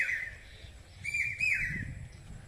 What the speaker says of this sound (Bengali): এই রিসোর্টের ভেতরে আপনারা নিশ্চয়ই কোকিলের ডাক শুনতে পাচ্ছেন